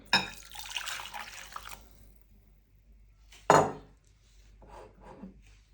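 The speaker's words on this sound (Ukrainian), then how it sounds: "Далі це все діло треба залити нам бульйоном" Broth poured over marinated champignon mushrooms, a close pouring rush at the start, then a sharp clatter and a few quieter liquid and utensil sounds.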